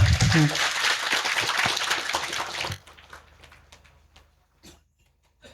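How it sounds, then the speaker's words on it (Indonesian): Audience clapping for the speakers at an Islamic lecture gathering, a loud burst of applause that fades out after about three seconds, leaving quiet room noise and a few scattered sounds. "Kita beri aplaus dulu untuk para pembicara"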